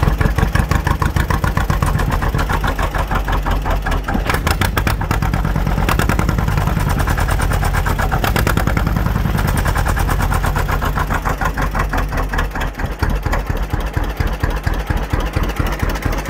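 A 1948 John Deere B tractor's two-cylinder engine runs loud and close with a steady rapid popping beat that quickens as it speeds up from idle, the throttle easing off briefly near the end.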